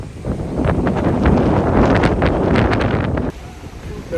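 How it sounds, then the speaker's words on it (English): Strong gusty wind batters the microphone during Ironman triathlon training in Galveston, a loud roaring buffet that rises and falls for about three seconds before cutting to quieter rumble. "look at this crazy ass wind and these shit conditions"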